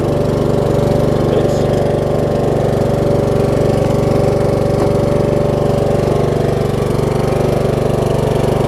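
A Troy Bilt Pony riding lawn mower engine runs in a loud, steady idle, its low throbbing drone constant and close for the whole stretch with no talking over it.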